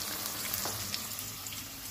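Steady oil sizzle and crackle of tofu frying in a pan, continuous and close, with no voices.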